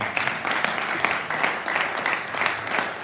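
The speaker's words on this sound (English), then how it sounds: "If you are not clapping, you are wrong." A workshop audience applauds steadily at an official opening session, a dense wash of clapping that keeps an even level throughout with no clear voices on top.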